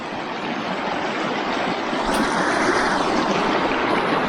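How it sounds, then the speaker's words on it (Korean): A mountain river in a Pakistani village valley flows as a broad, steady rushing roar of water, close and constant throughout with no voices. "물소리도 어쩜 이렇게 예뻐"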